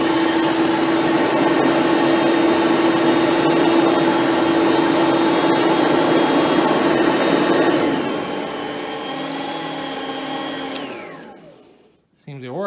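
An Oreck XL Platinum vacuum cleaner hums with a steady close motor whir, then winds down with a falling whine before being switched off near the end.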